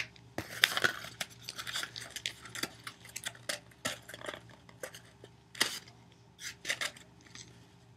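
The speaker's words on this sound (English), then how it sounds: "So now you take the tape, cut out a strip" Scissors snip through a strip of tape for a cosplay rifle prop, making a run of crisp, close metallic cuts and crinkly tape rustles in an irregular rhythm, with no talk.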